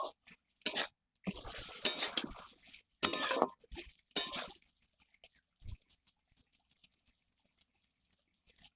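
A metal utensil stirs boiled potatoes in a pan that has cooked dry. It makes several scraping, clinking bursts close by, each with a short silence between, then tapers to a few faint taps, and no one speaks.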